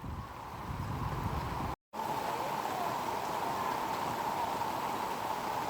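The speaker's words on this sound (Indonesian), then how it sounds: "hujan dengan intensitas deras" Heavy rain pours steadily in an Indonesian town during flooding of the Pinang River, a dense, constant hiss with one brief dropout, loud and without talk.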